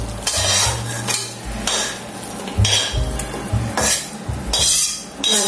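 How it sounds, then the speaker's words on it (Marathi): Roasted ridge gourd being crushed in a small metal pot, a steady run of loud, clanking pounding strokes against the vessel, with no talk. "हे जे गिलक आहे हे आपण आता बडगीत घालून घेऊ आणि ठेचून घेऊयात व्यवस्थित"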